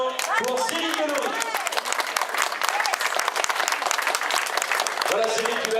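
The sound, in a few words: applause for second-place cyclist at race podium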